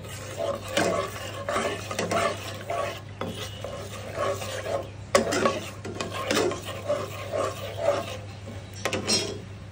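Whole five-spice and three or four bay leaves fry in mustard oil, giving a steady close sizzle broken by repeated scraping and stirring strokes, with no voices.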